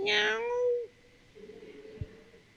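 A single loud, drawn-out cat meow close up, then quiet room noise with a faint thump.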